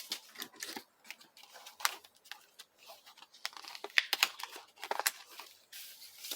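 Paper and plastic wrapping on a Stampin' Up catalogue package being ripped open: close, irregular bursts of tearing and crinkling, sharp and scratchy, in quick uneven succession with short pauses.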